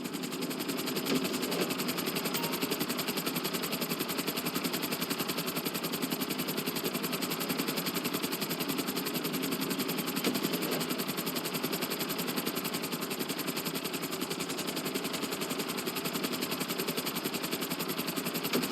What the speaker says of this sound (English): we'll see how well you handle the chopper